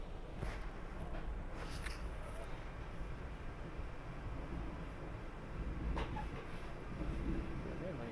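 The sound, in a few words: passing train on the SEPTA regional rail line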